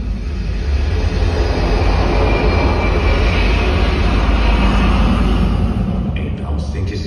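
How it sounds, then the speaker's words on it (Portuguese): A loud, sustained jet engine roar builds in a cinema advertisement, steady and powerful across the whole stretch with a heavy low rumble, alone with no talk. "até o estrondo de um motor a jato"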